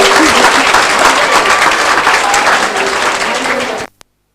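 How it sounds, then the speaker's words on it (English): A crowd claps loudly and continuously at a 2022 school tech fest, a dense roar of applause that cuts off abruptly near the end, followed by a single brief knock. "Can we have a huge round of applause, please?"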